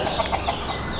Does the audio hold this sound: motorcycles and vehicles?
no